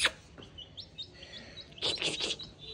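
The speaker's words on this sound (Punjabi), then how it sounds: "ਆ ਵੀ ਚੂਚੇ ਲਿਆਂਦੇ ਆ ਨੀਚੇ ਨਾ ਸਾਡੇ" Baby chicks chirp indoors, a run of small, high, rapid peeps close by, with a louder burst of cheeping near the end.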